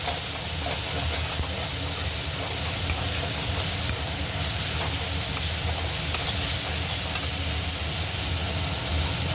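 Bhetki fish with salt frying in oil in a pan gives a loud, steady, close-up sizzle and hiss, an unbroken crackle that holds at the same level throughout.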